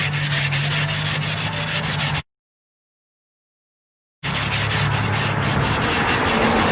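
Sandpaper rubs over a wooden bowl during restoration, making close, rhythmic, raspy scrubbing in two bursts separated by a couple of seconds of silence.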